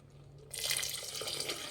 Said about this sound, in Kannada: ಒಂದು ಕಾಲು ಗ್ಲಾಸಷ್ಟು ನೀರು ಹಾಕ್ತಾಯಿದ್ದೀನಿ